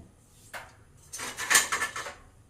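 Steel plate set inside a cooker as a stand for baking an eggless wheat cake, giving a short metallic clink followed by a louder rattling clatter of metal on metal, close up, then a final knock.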